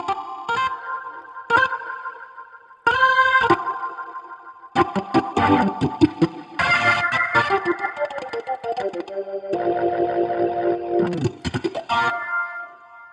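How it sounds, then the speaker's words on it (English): Hammond B-3X organ chords swirl through a spinning Leslie rotary speaker, drenched in splashy spring reverb, with bursts of held notes and abrupt stops. "when you spin the Leslie up and hit the reverb"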